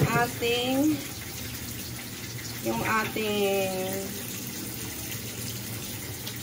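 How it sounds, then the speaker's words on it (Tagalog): Running tap water pours over water spinach leaves being washed in a kitchen sink, a steady hiss under a voice speaking in two short bursts. "kailangan ng hinalang na tubig kasi gusto ko yung nahuhugasan isa-isa yung dahon ng kangkong"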